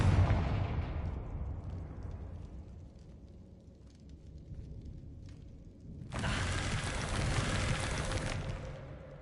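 Confringo blasting spell explosions from Hogwarts Legacy erupt as a loud, sustained fiery burst after several seconds of quieter rumbling ambience, roaring at full strength until near the end.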